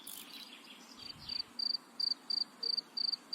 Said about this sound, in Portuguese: Pode ver que já tem um doidinho ali, só que é só um. Grilinho.